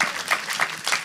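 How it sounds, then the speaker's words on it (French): Light clapping from a small audience at an intimate living-room concert, a few separate claps in a quick uneven rhythm, brief and fairly faint. "on peut applaudir"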